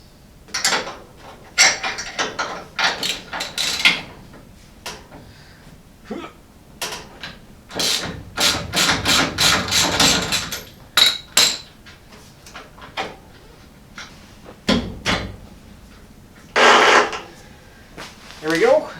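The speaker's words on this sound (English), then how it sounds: "So next, got to undo the shock mounts here." Wrench working loose the 11/16 shock mount bolts on a Model A hot rod shop truck, a series of sharp metallic clanks and ratcheting clicks in bursts, with someone talking between them.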